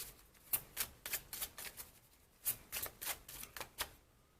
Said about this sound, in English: I want to pull one more card for you